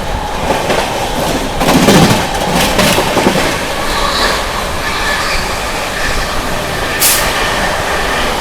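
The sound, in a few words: 12393 Sampoorna Kranti Express train passing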